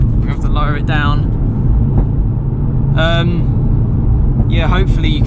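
An MRC Stage 2 tuned Audi RS3 drives on a mountain road with a constant loud roar, and several short rising engine or exhaust notes cut through the rumble.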